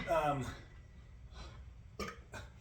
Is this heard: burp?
yes